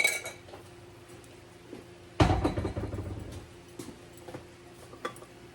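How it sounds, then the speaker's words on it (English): Shrimp go back into a pan for a lemony jalapeño dish: one sharp clatter of metal and food hitting the cookware, then a short sizzle-like rustle fades into scattered soft clinks and ticks. The kitchen is quiet and nobody talks. "I'm going to go ahead and put my shrimp back in there"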